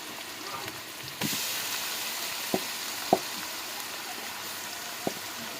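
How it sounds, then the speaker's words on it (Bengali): Chopped onion, garlic and ginger frying in a pan, a steady close sizzle with a few sharp clicks of a spoon against the pan, no talking. "এই যে এখন আমি পেঁয়াজ কুচি আদা কুচি রসুন কুচি এগুলো একটু কষিয়ে নিব এভাবে"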